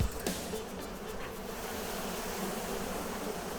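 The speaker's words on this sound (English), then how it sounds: "The bees are trying to push the smoke away with their wings." Honey bees buzzing in a nucleus hive while smoked, fanning their wings in a dense, steady close-up drone with a brief sharp tap near the start and no talking.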